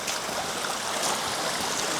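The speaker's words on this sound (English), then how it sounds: "So we're just walking up this little creek right now." A small coastal creek near a beach streams steadily in a broad, even rush of water, close and constant with no voices.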